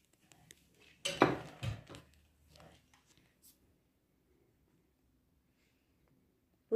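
Dishes set down one after another on a home iftar table, a few close clinks and clatters of plates with a short pause between, then quiet.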